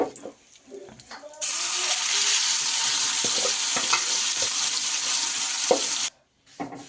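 Ground greens for kattu keerai kadayal dropped into a hot pan and stirred: a sudden loud sizzle that holds steady for several seconds with spoon scrapes, then cuts off abruptly.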